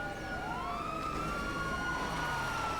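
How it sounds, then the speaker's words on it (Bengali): A police car siren wails in the GTA video game, a steady rising and falling electronic tone that carries on alone throughout. "পুলিশের গাড়ির আওয়াজ শোনা যাচ্ছে"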